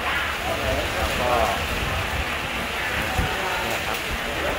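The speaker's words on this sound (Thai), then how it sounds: "พอดีวันนี้มาก็ฝนตก" Rain falls outdoors as a steady, moderately loud patter and hiss across the whole stretch, with a voice talking over it.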